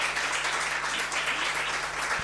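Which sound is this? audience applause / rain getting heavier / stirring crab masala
audience applause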